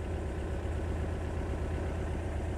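A 1972 Volkswagen Dune Buggy engine idles steadily close by, a smooth, even low rumble with no revving and no voices.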